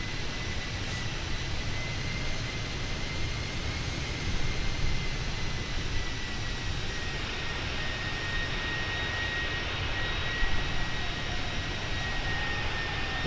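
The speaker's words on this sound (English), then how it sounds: "Our A321-200 with our CFM engines." Simulated Airbus A321-200 jet with CFM engines in Microsoft Flight Simulator 2024, a steady broad engine roar with a faint high whine running throughout, unbroken and fairly loud.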